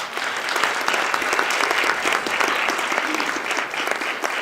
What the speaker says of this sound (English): Please give another round of applause to our panelists.